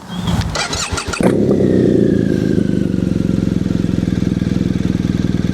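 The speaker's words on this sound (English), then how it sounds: "Here comes the Akrapovic on fire up. It's cold, by the way." A cold BMW R1250/R1200 GSA motorcycle engine with an Akrapovic titanium exhaust cranks with a few rough bursts, then fires up and settles into a loud, steady, throbbing idle close by.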